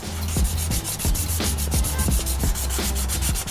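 Hand sanding of a car wheel with 500 grit sandpaper, a close, even rasping made of quick repeated strokes at a steady rhythm with no voices.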